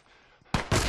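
Gunfire in the video game The Last of Us: after a quiet moment, two loud, close shots ring out in quick succession, each with a short echoing tail.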